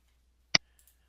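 A single sharp computer mouse click, close and quiet, followed by faint faint ticks in near silence.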